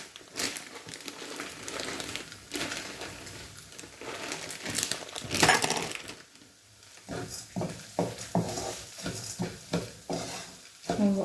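Fried onions tipped into a hot pan, with a crinkling, rustling stir and light sizzle, a sharp burst midway, then a run of short scraping strokes as they are mixed in, close and fairly quiet with no talk.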